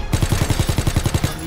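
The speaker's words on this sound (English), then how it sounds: "I'm shooting at him!" Rapid automatic gunfire in Call of Duty: WWII, a steady burst of about a dozen close, evenly spaced shots over a second and a half with no talk.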